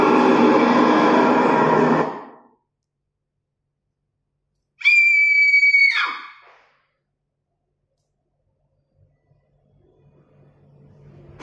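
A motion-triggered Halloween scream speaker: a loud burst of broadband noise cuts off, then after silence a short shrill wavering shriek with harmonics sounds for about a second before fading.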